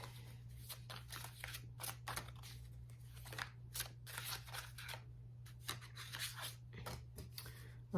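Tarot cards being shuffled by hand in a quiet room, a run of soft papery riffles and rubs in irregular bursts over a steady low hum, with no talking.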